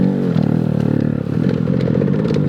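A 2-stroke 125cc motocross bike, a Yamaha YZ125 that may be flooded, revs up close with a loud, buzzy, rattling engine note that rises and holds.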